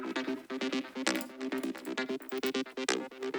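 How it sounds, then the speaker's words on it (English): Acid bass line from an Acid V synth plays a fast run of short, squelchy, resonant notes in a busy, even rhythm, fairly quiet, with no talk. "Then we have an acid bass line from Acid V again."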